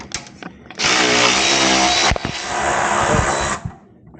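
A power tool removes rusty exhaust bolts on a 2020 Kawasaki Ninja ZX14R motorcycle in a garage, two loud close whirring bursts of about three seconds and one second, split by a brief pause, with light clanks around them.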